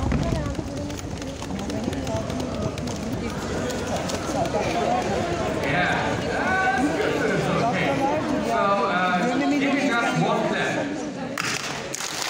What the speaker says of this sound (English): before we clap with our hands, let's clap with our feet